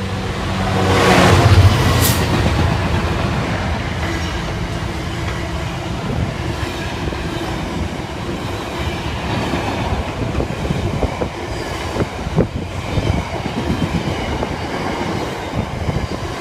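A long freight train rolls past a station platform at Stevenage on the East Coast line, a loud, steady roar of wagons with rhythmic wheel clatter and occasional squeals, close and continuous throughout.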